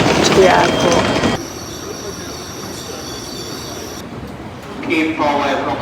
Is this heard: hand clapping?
no